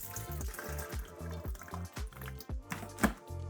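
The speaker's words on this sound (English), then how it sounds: "water goes straight into this section here and it will trickle on into the unit" Water is poured into the refill drawer of a Honeywell TC10PE evaporative air cooler, trickling and splashing in uneven bursts. Rhythmic background music plays underneath.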